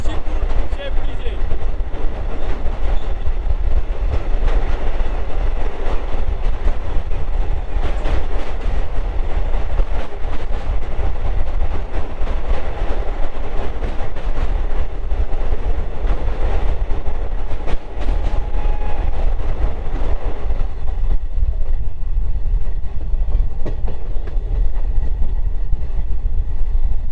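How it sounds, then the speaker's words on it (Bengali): A passenger train crossing the Nashipur rail bridge on the Krishnanagar to Azimganj line, with loud sustained rumbling and clattering wheels heard up close from on board, easing off near the end, with faint voices in the background. "নসিপুর ব্রিজের উপর থেকে আমাদের ট্রেন চলে আসলো"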